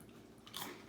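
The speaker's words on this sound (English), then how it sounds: "I'm gonna crunch away over here on my own piece." A crunchy bite into a piece of homemade bread gives one faint, brief crunch over low background noise.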